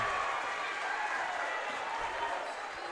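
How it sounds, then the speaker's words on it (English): Crowd at a TSC men's basketball tournament game cheering wildly after a made free throw, a continuous broad roar of voices that holds steady throughout. "As the crowd goes wild here at TSC."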